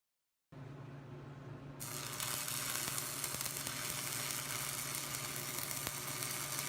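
MIG welding with CO2 shielding gas and a copper spoon backing, a steady crackling sizzle that starts abruptly and continues evenly at close range, quiet overall.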